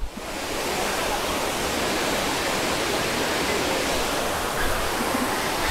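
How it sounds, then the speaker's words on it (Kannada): Thottikallu waterfall near Bangalore pours steadily, a dense, even roar of rushing water heard close and unbroken, with no voices. "ಅಲ್ಲಿ ಬಂದಂಥ ನೀರು ಹಿಂಗೆ ಹರಿದು"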